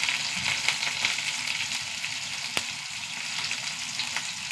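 Garlic cloves and small shallots fry in hot oil in a pan, giving a steady, close sizzle and crackle that runs throughout with no talking.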